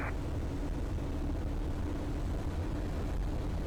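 Eurofox microlight aircraft on final approach, its engine a steady low drone that stays loud and constant throughout with the throttle being closed.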